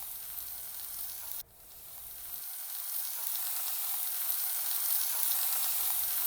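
Squash pieces frying in hot oil, a loud continuous sizzle that dips briefly then swells back and holds steady, close to the pan with no voices.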